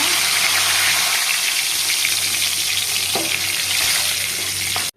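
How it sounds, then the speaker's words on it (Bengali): Cumin seeds and bay leaves crackle and sizzle in hot oil left after frying fish, a loud continuous frying hiss with an occasional stir, cutting off abruptly at the end. "এখন তেলের উপর আমি দিয়ে দিচ্ছি জিরে আর তেজপাতা।"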